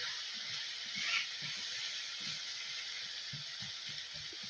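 Onions fry in oil in a non-stick pan with a steady, soft sizzle and faint crackles, quiet and close, with no voices.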